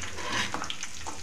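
Cumin seeds fry in a pan with a steady, close, crackling sizzle that carries evenly throughout, with no voices.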